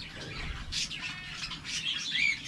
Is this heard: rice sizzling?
no